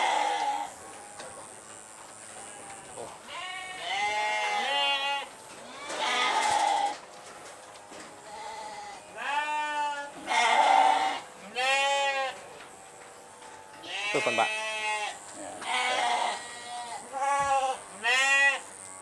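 Sheep bleat repeatedly and loudly while being shear-clipped during a farm visit in Grobogan, the quavering calls coming in several bursts close by, with a man's brief speech between them.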